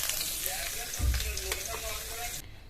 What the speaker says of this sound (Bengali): মাছ ভাজা তেলের মধ্যে দিয়ে দেবো গোটা গরম মশলা